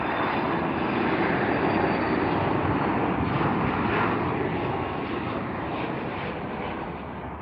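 A jet airliner passes overhead at Heathrow airport with a loud, steady broadband engine roar that holds strongly throughout and eases slightly toward the end, with no other sound over it.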